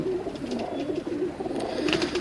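Imamdini pigeons coo in a steady, low, rolling murmur, several birds close by and continuous with no talking.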